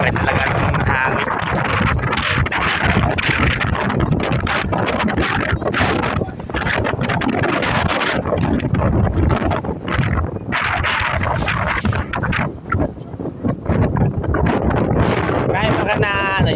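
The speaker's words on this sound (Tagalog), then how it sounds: "malakas pa rin talaga ng hangin" Strong wind roars steadily across a typhoon-battered seashore, buffeting the microphone in loud continuous gusts with faint rustling and water sounds beneath.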